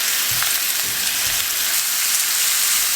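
Paprika-seasoned chicken pieces frying in a pan, a steady loud hiss of sizzling oil with a few soft low bumps, constant and close.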